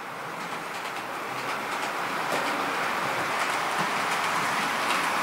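A TT scale model railway freight train rolls steadily along the layout track, a continuous light rumble with faint clicking, sustained at even level throughout with no talking.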